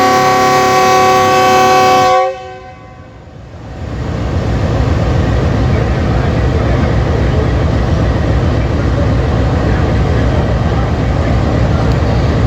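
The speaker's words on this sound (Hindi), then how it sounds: "सिग्नल डाउन नहीं है, बहुत ही ख़तरनाक विसल है इसका" An express train sounds a long, loud horn while departing a station. A sustained multi-tone blast cuts off after about two seconds, then a steady broadband rumble of the moving train follows and keeps going to the end.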